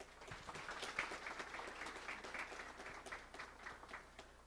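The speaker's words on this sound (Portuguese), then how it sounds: "Jeovan Assis da Silva e Neide de Sordi, a quem solicitamos uma salva de palmas" Faint, continuous audience applause at the opening ceremony of a justice-performance seminar, dense clapping heard from a distance and sustained for several seconds.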